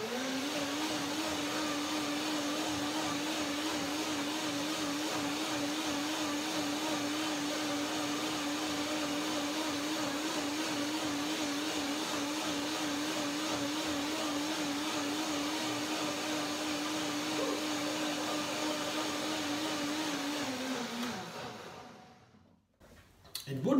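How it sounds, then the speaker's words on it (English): A blender runs steadily at high speed, blending vanilla cashew cream with blueberries and strawberries, a loud continuous whirring drone for about twenty seconds before it cuts off abruptly near the end. "One more blender dance."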